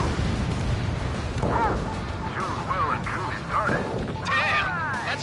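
Explosions in the combat flight game Ace Combat 7, flying an F-4E, sound as repeated booming bursts and pops over roaring engine noise, with voices talking over the action.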